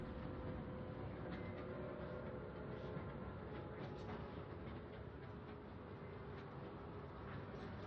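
A train-like altered item transport in the video game Control rumbles steadily on its track, a low continuous mechanical roll with faint clattering, loud and close.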